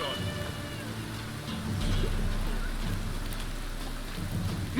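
Steady rain hisses in The Witcher 3 video game, a dense continuous patter with low rumbling underneath and faint voices in the background.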